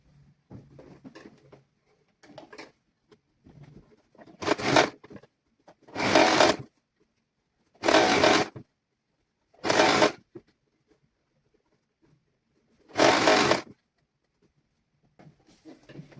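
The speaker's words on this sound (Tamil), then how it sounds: "அதாவது 1 சென்டிமீட்டர் சீம் எடுத்து சுற்றி வர தைச்சு கொண்டு போகணும்" Sewing machine running in five separate bursts of a second or so each while stitching a one-centimetre seam on a baby summer dress, loud and close, with quiet pauses and faint handling between runs.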